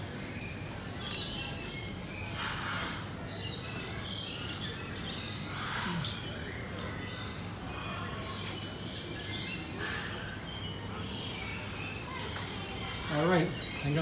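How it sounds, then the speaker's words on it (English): Birds call and chirp in a Kuala Lumpur bird park aviary, scattered tweets and squawks over steady ambient noise, with some voices in the background. "Beautiful, beautiful birds. Beautiful birds."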